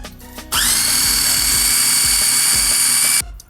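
A kitchen blender whirring through chocolate avocado pudding: it starts abruptly, holds a loud, steady high-pitched motor whine with a slight rhythmic chop for about three seconds, then cuts off.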